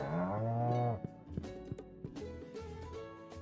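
A cartoonish cow in the Stardew Valley video game lets out one long, drawn-out moo at moderate volume, followed by light tonal game sounds and music.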